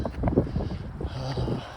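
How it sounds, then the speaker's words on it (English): Gusty wind buffets a microphone in low, rumbling bursts, uneven and close, with no clear speech. "Very windy."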